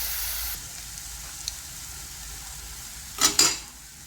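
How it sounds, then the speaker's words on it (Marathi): Tomato puree for mung bean amti fries in a pan with a steady soft sizzle, broken near the end by two short scraping stirs of a spoon against the pan. "आता हे सुद्धा आपण व्यवस्थित चांगलं असं भाजून घेणार आहोत"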